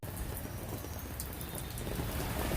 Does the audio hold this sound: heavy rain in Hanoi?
yes